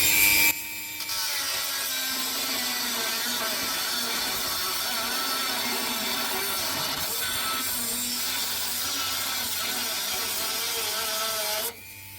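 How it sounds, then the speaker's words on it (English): A Dremel grinds steadily while cutting a hole for a Safari snorkel on a VW Amarok, a loud continuous high whine with shifting tone that runs for most of the clip before cutting off near the end. "And then we're going to drill some holes and Dremel it out."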